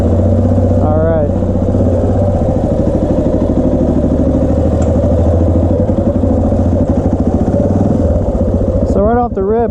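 A Honda XR400R dirt bike engine, modified, idles steadily and close by with an even, throbbing thump that holds for nearly ten seconds, a brief voice coming in near the end.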